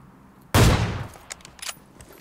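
A loud, close gunshot goes off in PUBG Mobile. It is followed by a few fainter shots and some scattered rattling as it echoes away.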